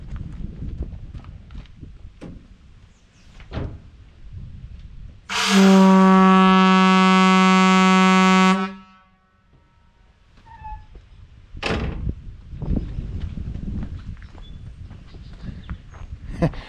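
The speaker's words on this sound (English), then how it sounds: "the air horn on this thing actually sounds like the one on the Duel movie." Air horn on a 1962 Peterbilt 351 truck gives one loud, sustained blast of about three seconds, rich in harmonics, between stretches of quieter background noise and handling sounds.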